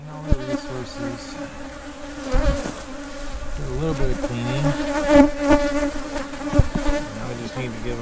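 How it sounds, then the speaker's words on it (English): Honey bees hum densely around an open hive during an inspection, a loud, close, continuous buzz with individual bees flying past, while a person speaks briefly over it. "They have a lot of bees for what."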